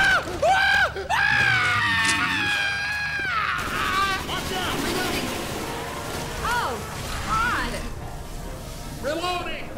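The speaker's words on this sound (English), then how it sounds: "He's freaking screaming his head off." A character in the co-op zombie shooter Left 4 Dead 2 lets out loud, wavering screams that rise and fall, mixed with game noise and players talking over it.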